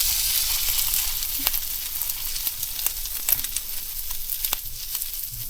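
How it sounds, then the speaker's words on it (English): Tortillas frying in a pan until golden brown, giving a steady close crackling sizzle with scattered louder pops and a faint stirring scrape throughout. "now you're just going to fry them until they're golden brown and ready"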